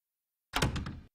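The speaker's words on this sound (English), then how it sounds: "Cleveland, slam the door" A cartoon door slams shut with one heavy, close thunk that rings briefly and then stops, standing alone after a moment of silence.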